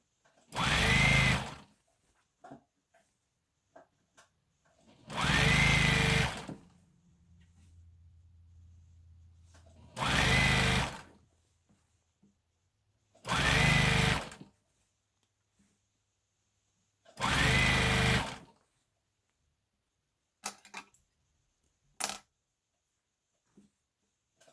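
A sewing machine stitches around the hem of suit pants in five separate loud runs of one or two seconds each, with quiet pauses and small handling clicks between them.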